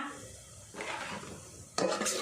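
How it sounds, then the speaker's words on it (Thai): A spoon stirs coconut milk in a pot on the stove while making a Thai banana-blossom curry with grilled fish. Two distinct scraping strokes stand out, close and clear, over a low simmering hiss, with no voices. "แล้วก็คนให้กะทิเดือดค่ะ"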